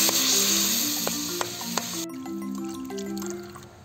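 Water pours into a hot pan of sautéing pork, garlic and onion, a loud rushing hiss that cuts off abruptly, leaving a quieter bubbling simmer with occasional utensil clinks.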